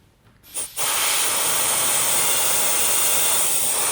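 An Airjet compressed air blower used in dental die trimming, foot-activated, starting with a couple of brief puffs then settling into a loud, continuous, steady hiss held to the end.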